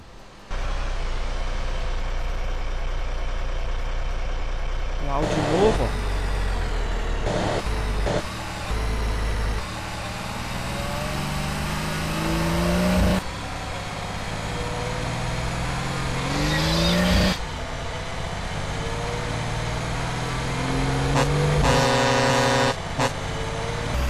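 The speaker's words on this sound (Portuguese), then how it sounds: "Dos caminhões de bombeiro também." Modded fire truck engine in GTA San Andreas, a steady loud rumble that runs throughout, broken by horn blasts and hissing air-brake releases.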